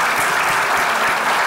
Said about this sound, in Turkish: Alkışlıyoruz bir daha